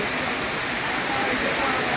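Pre-monsoon rain shower falling steadily, a dense, even hiss of drops with no breaks, close and fairly loud throughout.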